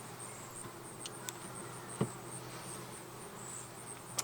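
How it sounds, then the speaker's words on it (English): A faint, steady buzz of many honey bees close by during a Langstroth hive inspection, with occasional soft taps and clicks. "Watch for bees, don't smush them."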